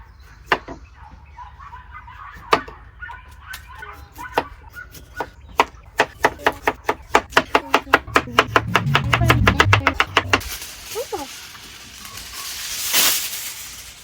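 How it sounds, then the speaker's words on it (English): A knife chops potatoes with sharp, hard taps that begin sparse and speed up into a rapid, steady run, followed by a soft hiss. "Start off by doing a little chopping on some potatoes"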